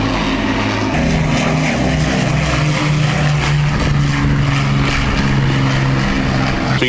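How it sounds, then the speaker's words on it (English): A B-25 bomber flying past at the Biggin Hill airshow, a loud continuous propeller-engine drone with a steady low hum that swells and shifts as it passes, heard outdoors with no talking. "B-25 after it passes. Let's listen to it as it goes by"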